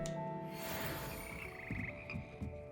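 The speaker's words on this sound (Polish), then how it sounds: "Żabi chór." A frog chorus croaks in the video game Hogwarts Legacy, a dense overlapping bed of steady croaks and buzzing trills layered over a continuous ambient hum, moderately loud and close.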